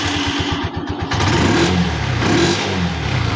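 A Honda TMX125 Alpha motorcycle engine cranks with a rapid rhythmic starter chug, catches, then idles and revs up twice, loud and close.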